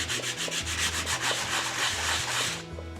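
A sanding block rubs back and forth on wood while cleaning up a model house wall, steady repeated scraping strokes with a regular rhythm, close and fairly loud.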